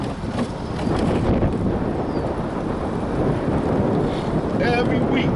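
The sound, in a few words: gust of wind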